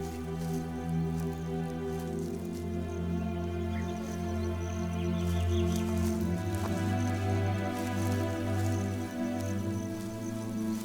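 Heavy November rain falls on the African savanna in a steady, dense patter with scattered drips, continuous throughout under a sustained tonal background.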